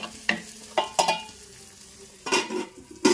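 Tomato chicken curry being stirred in a clay pot, with several separate scraping strokes of a utensil against the pot over a soft background sizzle, close and fairly loud with pauses between.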